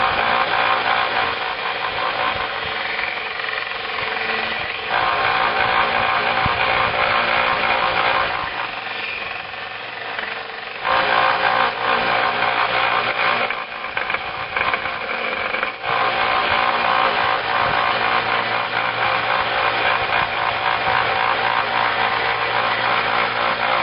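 A power tool sands epoxy off a metal hatchet head with a continuous loud, gritty whine and rasp, dipping briefly a couple of times as pressure eases before resuming, with no talk.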